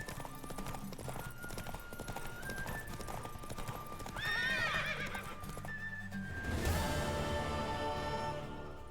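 Hooves clip-clop at a steady gallop in The Witcher 3 video game, close and continuous, with a horse neighing and whinnying partway through over game music.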